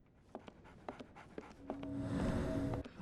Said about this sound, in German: Oh, ein Hund.